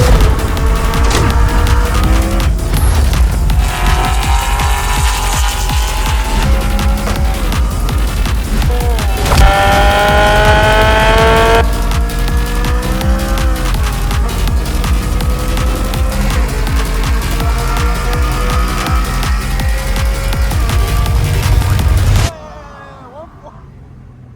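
A race car lapping a track during a driving session, its engine roaring loud and close throughout with rising and falling revs and gear changes, before cutting off abruptly near the end.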